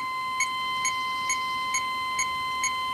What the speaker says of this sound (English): There's our seatbelt warning beep.